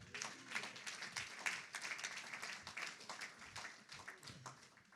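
A church congregation claps through a service for several seconds. The clapping is dense and continuous but fairly faint, like distant applause filling the room.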